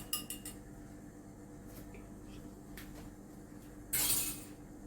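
A utensil clinks and scrapes against a hot pot as an egg and vanilla mixture is stirred in slowly over low heat for a Lebanese pudding, with sparse light taps and a brief louder scrape near the end.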